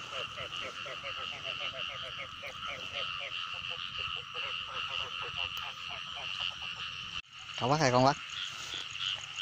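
Frogs croak in a flooded rice field in a loud, close chorus of rapid rhythmic pulses running continuously, and someone briefly speaks over them near the end.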